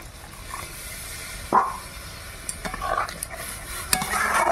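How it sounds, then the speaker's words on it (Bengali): Water is poured into a pan of frying ghugni, a pea curry made with fresh green peas, bringing a burst of sizzling, followed by stirring scrapes and light clinks of the utensil against the pan. "এবার আমি অল্প করে জল দিয়ে দিলাম।"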